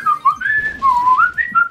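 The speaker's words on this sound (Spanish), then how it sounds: "¡Chiflemos un poco!" A person whistles a quick, bright melody of short gliding notes, close and loud, during a Brawl Stars gaming session, with no talk over it.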